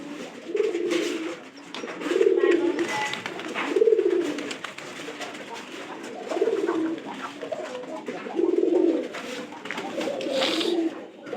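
Pigeons cooing in repeated low, throaty bursts about every one to two seconds, fairly close, with faint background chatter and occasional higher chirps.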